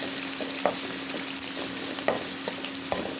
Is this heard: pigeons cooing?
no